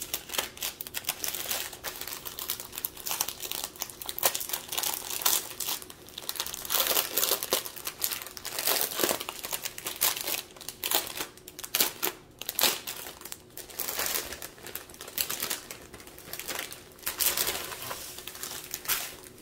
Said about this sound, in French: Donc, je vais ouvrir le paquet.